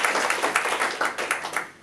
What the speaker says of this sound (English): I'd like you all to give yourselves a round of applause